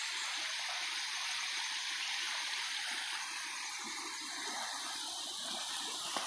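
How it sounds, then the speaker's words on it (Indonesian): A fast, deep river flows through the rainforest interior as a steady, dense rushing of water with no pauses, close and even, and no voices over it. "Aliran air ini cukup deras dan dalam."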